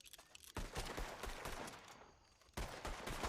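Gunfire in the Red Dead Redemption 2 WildRP game, a dense fusillade of overlapping shots in two loud bursts separated by a short lull, with no talking.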